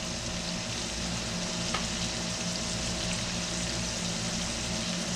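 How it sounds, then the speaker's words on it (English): Potatoes fry in a pan of bacon fat with a steady, close, crackling sizzle that holds evenly from start to finish, with no voices over it. "Right here in the pan, sizzle away."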